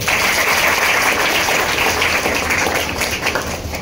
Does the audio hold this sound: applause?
yes